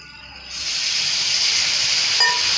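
Water hits okra frying in oil in a hot pan on medium flame, setting off a sudden loud hiss that swells and holds steady as steam sizzles.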